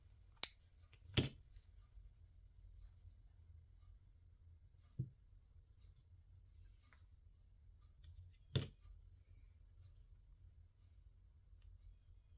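Scissors snip thread during hand stitching, several sharp isolated cuts spaced apart against a quiet background.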